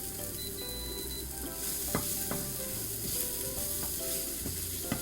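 Onions stir-frying in a pan for a pumpkin salad, giving a steady, close sizzle broken by occasional sharp clacks and scrapes of stirring, with no voices.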